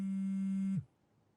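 A steady electronic tone, like a phone ringing or buzzing, holds for under a second inside a home, then cuts off into near silence; no one speaks during it.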